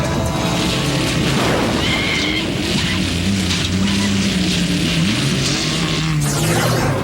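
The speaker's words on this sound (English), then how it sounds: "10 Jeeps kick back the dirt and will stop at nothing to grab the lead after the first turn" Ten Jeeps race on a dirt track in Russia, engines roaring loud and continuous with rising and falling revs, rumbling and distorted, with voices faintly underneath.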